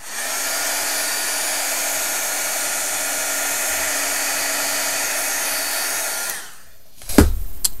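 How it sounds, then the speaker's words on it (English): A heat tool blows a loud, steady whoosh while drying Neocolor II crayon on paper, running continuously for about six seconds before switching off, followed by a short clatter as it is set down. "Let me go ahead and dry that real quick with the heat tool."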